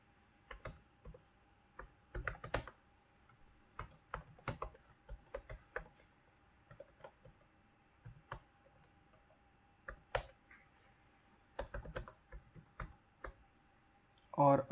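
Computer keyboard keys clack steadily in irregular bursts as code is typed for a LeetCode problem, close and fairly quiet, with a person speaking at times between the keystrokes.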